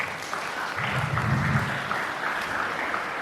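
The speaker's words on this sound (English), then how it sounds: "the school authority really requires a good applause" Steady crowd clapping at a school debate prize event, a moderately loud, continuous wash of applause lasting a few seconds with a brief murmur of voices underneath.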